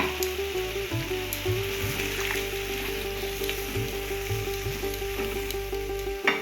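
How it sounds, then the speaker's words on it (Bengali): Rinse water from a spice bowl hits Bengali shukto vegetables in a hot pan, setting off a steady loud sizzle and frying hiss with a little stirring, close and continuous over a low hum. "এবারে মশলার বাটি ধোয়া জলটা আমি দিয়ে দিলাম।"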